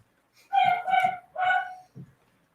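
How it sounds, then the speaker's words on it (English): A dachshund barks from a distance indoors, three sharp tonal barks in quick succession followed by a softer yip. "You can hear someone's home because my killer wiener dog is up there barking."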